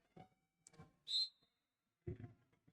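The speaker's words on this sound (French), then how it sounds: "Premier coup de sifflet de la journée." A referee's whistle opens a French national second-division roller derby game: a single short, piercing blast stands out on its own in a quiet hall, with faint, distant voices and crowd murmur before and after it.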